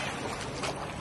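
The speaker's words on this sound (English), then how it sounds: "you just hear the crash of the waves" Waves crashing on a long, clear-water beach in Portugal, a steady broadband wash of surf close to the microphone with a slight swell midway, no voices.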